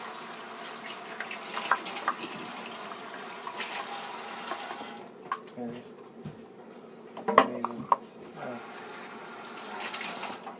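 Tap water runs intermittently into a sink as a measuring cup is rinsed out after measuring flour for brownies, with splashing bursts and a few soft clinks between quieter pauses.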